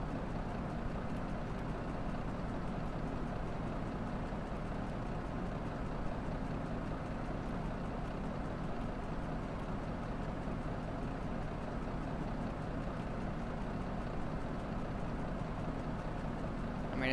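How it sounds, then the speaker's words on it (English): A Kenworth W900 long-hood truck engine runs with a steady low rumble, even and continuous throughout, heard alone without voices. "this truck does sound like a race car"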